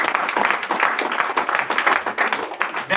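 Clapping from an audience at a motivational training session, a moderately loud crowd of hands beating in a fairly steady, slightly uneven rhythm for a few seconds, with no one speaking.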